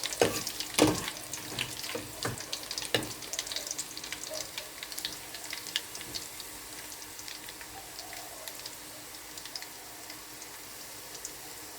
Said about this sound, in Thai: นี่ค่ะพอน้ำมันเริ่มร้อนแล้วก็เอากระเทียมลงไปผัดก่อน